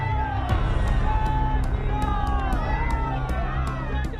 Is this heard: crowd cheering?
yes